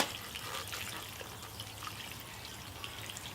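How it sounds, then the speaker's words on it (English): Water pours and trickles steadily into the soil of a potted flower arrangement, a soft splashing wash with faint drips, close by and fairly quiet, with no talking. "Let's water it in."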